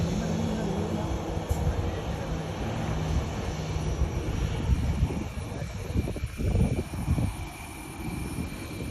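Oman Air airliner at Calicut International Airport, a steady broad engine roar and rumble running through the clip at moderate distance, with wind buffeting and faint talk over it.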